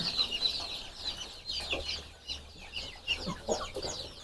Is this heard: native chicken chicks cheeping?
yes